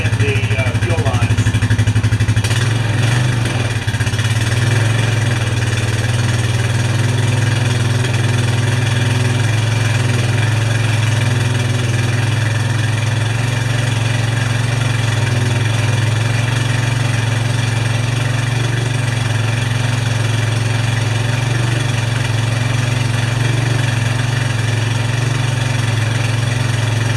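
A Honda Rancher 420 ATV engine idles roughly on stale, old gasoline in cold weather, a continuous loud low chugging drone with uneven pulsing throughout.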